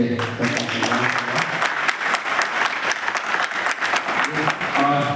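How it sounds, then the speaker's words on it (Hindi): Loud, sustained applause from an audience at a naturopathy event, dense clapping throughout with no pauses. "जोरदार ताली से"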